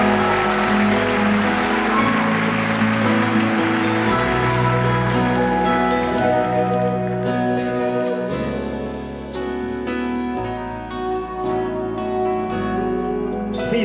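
An audience applauds a singer after a duet performance, a steady, dense wash of clapping with music still sounding underneath and individual claps emerging toward the end.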